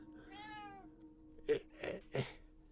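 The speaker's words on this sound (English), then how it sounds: "Meow. Meow." A cat meows once in a drawn-out tone, followed by three shorter, sharper bursts of sound close by, with no talking.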